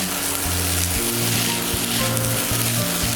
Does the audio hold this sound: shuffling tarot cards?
no